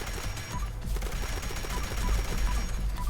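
Rapid automatic gunfire in Fallout 76 aimed at a level 60 Mirelurk Queen, a dense continuous stream of shots with low booming weight, fairly loud and sustained across the whole stretch.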